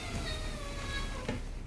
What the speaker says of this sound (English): Yeah, that's my cat, yeah.